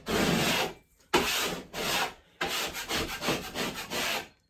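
Sanding knocks down high spots of drywall compound on a rebuilt wall: loud, rough abrasive strokes come in bursts, with short pauses between passes and faster rhythmic rubbing near the end.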